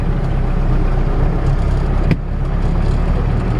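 An MTZ tractor's diesel engine rumbles steadily at close range as it pulls away in third gear in low range, with a brief clunk midway.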